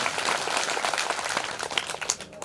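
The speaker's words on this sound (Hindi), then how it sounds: "एक बार तालियां अपने लिए" Audience applause at a Shiv Mahapuran religious discourse in a temple hall, a steady dense clapping wash from a gathered crowd lasting the whole moment and tapering slightly at the end.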